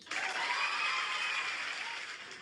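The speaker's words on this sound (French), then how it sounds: "J'applaudis pour mon modo Bonnie." Applause for a new stream moderator named Bonnie, a steady dense clatter of clapping that holds for about two seconds and then thins slightly toward the end, with no voices over it.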